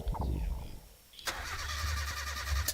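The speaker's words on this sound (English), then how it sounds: "It's pretty cool with the engine sound." A car engine in the racing game Midnight Club 2 starts up and settles into a steady, droning hum with bright high-pitched whine, after a brief burst of talk and a pause.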